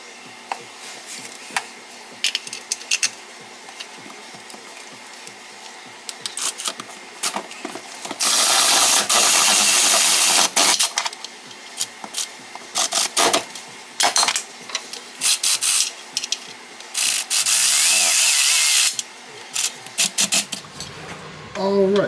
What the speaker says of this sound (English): I just got those transmission bolts in on the other side